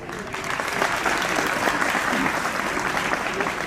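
Audience applause welcoming a guest at a Yatharth Geeta competition ceremony, a dense, continuous clapping from many hands that holds steady throughout, with no voice over it.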